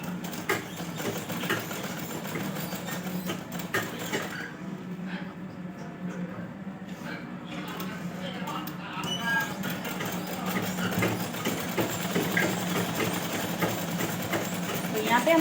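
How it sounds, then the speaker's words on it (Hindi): A sewing machine runs under a voice as it stitches a blouse, its motor giving a steady mechanical whir close by that keeps going throughout. "तो आपको बीचों बीच से इस तरह से रख के सिलाई करनी है"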